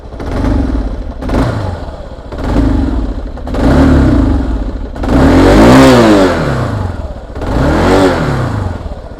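A Kawasaki KLR 650 motorcycle engine with a mechanical problem revs up repeatedly in loud surges, the pitch climbing and falling back between bursts, with rattly mechanical clatter throughout.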